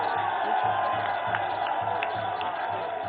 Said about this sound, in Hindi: तालियों की गड़गड़ाहट लगातार चलती रहनी चाहिए